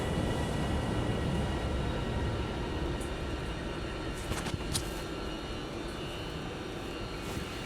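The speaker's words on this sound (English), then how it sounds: "here's the train that's going to take us to Manchester" A long passenger train standing at the platform at Crewe station, bound for Manchester, with a steady loud rumble of idling engines and station ambience throughout, a few brief clanks near the middle, no talking.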